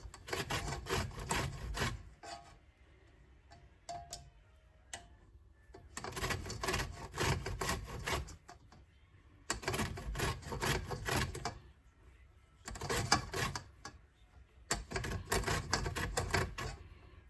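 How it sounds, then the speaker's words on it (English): Fresh lemon zested over a grater in a home kitchen for bread, heard as repeated long rasping scrapes in bursts of two to three seconds, separated by short quiet pauses, close and steady with no talk. "So I'm zesting a whole lemon."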